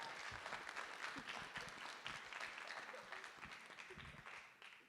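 Applause at a school board of education meeting, a crowd clapping steadily for nearly five seconds and fading slightly toward the end.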